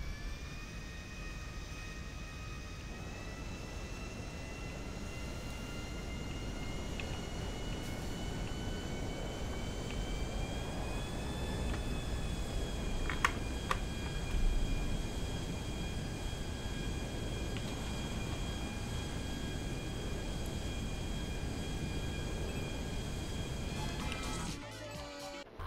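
A large jet aircraft's engine drones steadily in the video game GTA V, a continuous whining roar with a rising tonal whine that holds for the full stretch, faint and distant in level.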